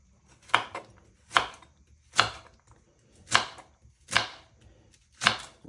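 Okra pods being sliced with a knife on a chopping board, six crisp, evenly spaced chops about a second apart, close and clear with no talking.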